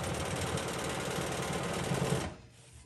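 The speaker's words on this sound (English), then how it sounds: "now I will just quilt my way back to where I started." A sewing machine stitches an arc flower quilting motif in a steady, even run of rapid needle strokes, close and loud, before stopping abruptly near the end.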